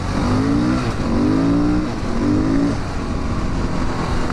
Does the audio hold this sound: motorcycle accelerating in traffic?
yes